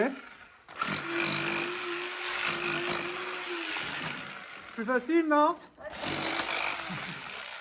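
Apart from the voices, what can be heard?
jackhammer breaking cement tiles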